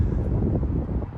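Fresh wind at Denmark's northernmost point buffets the microphone in a brief, loud, steady low rumble with gusty fluctuations and no other clear sounds.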